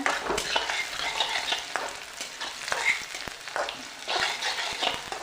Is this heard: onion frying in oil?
yes